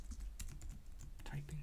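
Fast typing on a computer keyboard, a quick run of close clicky keystrokes lasting under two seconds, with a voice speaking softly underneath.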